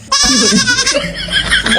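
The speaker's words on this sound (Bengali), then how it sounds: "ওখানে তো দুটোই ছাগল আছে।" A goat bleats loudly and close by in a long, wavering cry, followed by shorter bleating sounds mixed with a voice.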